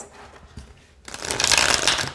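A Linestrider Tarot deck is shuffled close by, starting with a few soft paper taps and then swelling into a dense, loud riffling flutter for about a second.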